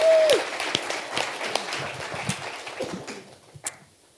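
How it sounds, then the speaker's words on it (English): An audience claps at a talk, a burst of applause that starts loud and thins into scattered claps and a few isolated sharp hits as it dies away. "One more round of applause for Jay."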